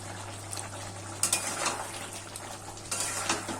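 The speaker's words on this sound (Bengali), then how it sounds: "দেখুন আমি আর একটু নাড়াচাড়া করে দিচ্ছি।" A spoon stirs drumstick curry in a pan, scraping and clinking against the metal at irregular intervals over a soft background sizzle and a low steady hum.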